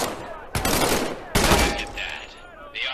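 Weapon fire in the VR game Medal of Honor: Above and Beyond: two loud, close bursts of rapid automatic gunfire, each trailing off, followed by fainter mechanical clatter.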